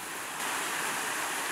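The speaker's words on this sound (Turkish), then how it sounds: "Az ileride şelale duyuyorum." Rushing water from a waterfall and stream in a forest, a steady broadband roar that swells slightly partway through, continuous and fairly near with no talk.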